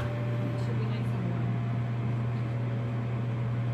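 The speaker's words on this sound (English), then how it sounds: "I'm going to put it in the microwave." A microwave oven hums steadily while warming Thanksgiving leftovers, a constant close drone with a low steady tone throughout.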